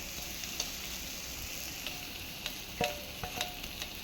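Mashed rohu fish is stirred in a hot pan without water, giving a steady close sizzle with occasional scraping taps of the spoon and no talking.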